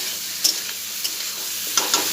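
Salt and turmeric frying and being stirred in a pan, a faint steady sizzle broken by a few brief scraping clicks of the spoon over about two seconds.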